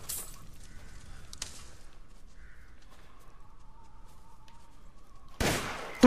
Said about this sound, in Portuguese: Aqui nós mata galinha com tiro de 12 mesmo.